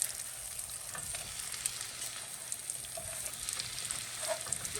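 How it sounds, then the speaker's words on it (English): Onions frying in a pan used for brisket, an even, fairly quiet sizzle with scattered stirring scrapes and light clinks, no voices. "now I'm going to add some onions just right here to this pan"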